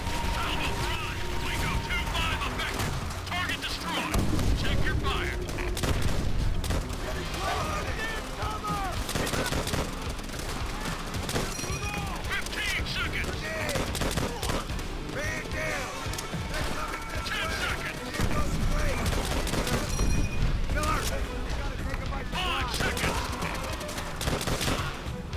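Sustained rifle and machine-gun fire roars throughout a Call of Duty: World at War campaign battle, with repeated loud volleys, explosions and crashes layered over distant shooting, while a player speaks now and then.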